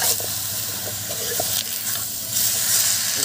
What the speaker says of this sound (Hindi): कढ़ाई गर्म हो चुका है, इसमें पोर्क डाल देता है।